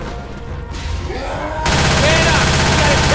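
Gunfire in Left 4 Dead 2 during a fight with a tank, heavy continuous automatic fire that swells into a loud, dense barrage, with game noise and faint voices underneath.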